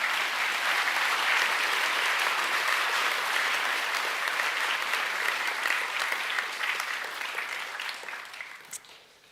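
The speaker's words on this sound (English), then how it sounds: "can we please give the Year 11 award winners a round of applause?" An audience at an academic awards presentation evening applauds Year 11 award winners, with dense, sustained clapping from a large crowd that holds steady and then tapers off toward the end.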